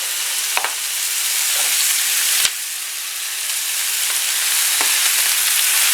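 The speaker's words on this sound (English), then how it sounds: "We're going to go ahead and spread it out evenly onto the pan so it can cook." Taco filling fries in a pan with a steady bright sizzle, broken by a few sharp clicks and scrapes as it is spread out, close and fairly loud with no talking.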